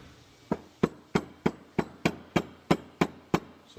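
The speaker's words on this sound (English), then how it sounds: "And then give it a couple taps with the hammer." A hammer taps a wedge tool under a seal on a Scotsman breaker, about ten sharp metallic knocks evenly spaced at a steady rhythm, close and distinct with no voices.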